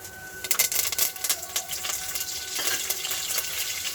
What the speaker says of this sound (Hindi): अब हम इसमें ये कलौंजी और मेथी दाना ऐड करेंगे।